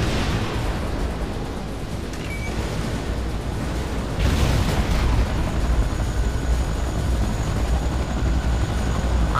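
Enemy aircraft in the video game Command & Conquer: Renegade, a loud, steady engine rumble with explosive booms and battle noise that swells partway through and stays heavy to the end.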